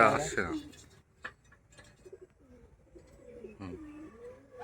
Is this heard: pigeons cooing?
yes